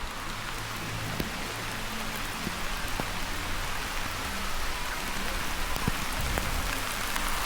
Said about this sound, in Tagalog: Umulan na po. Wala na makakapigil.